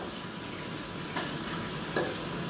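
Sugar melting in an uncovered pan fries with a quiet, even crackling sizzle, steady throughout with a couple of brief small pops.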